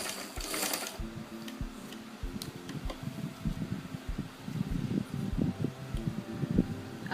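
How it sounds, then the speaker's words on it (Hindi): Sewing machine stitching a seam on narrow palazzo trousers, a quiet close rapid whirring run in bursts with small clicks, heard alone without talk. "यहाँ से सीधा यहाँ तक सिलाई लगेगी।"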